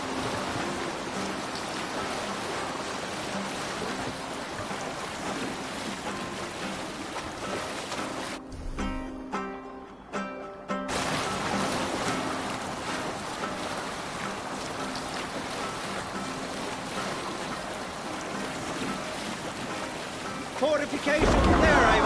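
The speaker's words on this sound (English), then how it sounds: "Man your oars! Let the sail out!" Viking longship rowed and sailed at sea in the game Assassin's Creed Valhalla, giving a steady wash of water and rain-like spray throughout, with a brief break midway and a louder surge at the end.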